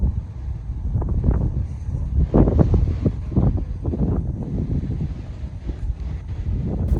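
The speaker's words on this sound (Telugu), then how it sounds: "కొట్టుకోయేలా ఉన్నాం, అంత గాలి వస్తుంది." Strong wind blows outdoors in Bangalore, buffeting the microphone with loud, uneven low gusts that rise and fall throughout.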